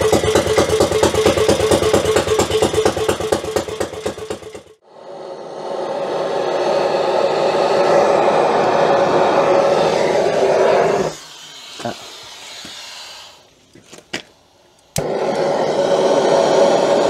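A Suzuki SFV motorcycle engine idles while warming up, a steady close pulsing rumble for several seconds, followed by a long stretch of broader, noisier running that dips briefly before returning.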